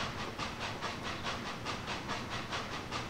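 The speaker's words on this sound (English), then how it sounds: "you're the thing with the lovely whistle." A steam locomotive in the Transport Fever video game gives a steady, fairly faint hiss with rhythmic chuffing pulses, heard alone without voices.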